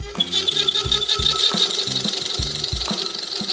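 A wood lathe spins a cracked wooden stick through a round stick planer jig, giving a rhythmic, repeating knock-and-whir about three times a second over a steady high hum, close and moderately loud.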